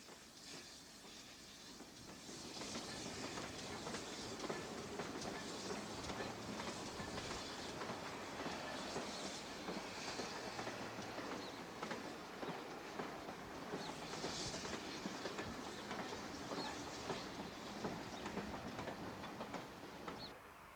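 A preserved steam train from the early 1990s runs along a UK heritage line with viaducts and tunnels, its steady rumble and clickety-clack of wheels on rail joined by soft steam hiss, heard from a moderate distance.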